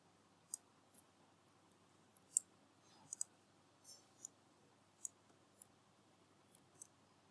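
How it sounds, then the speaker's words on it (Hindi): Faint, crisp computer mouse clicks tick out one at a time at irregular intervals, a few in quick pairs, during a JavaScript coding demo that triggers an alert dialog box, over a quiet near-silent background. "जैसे क्लिक किया हमने"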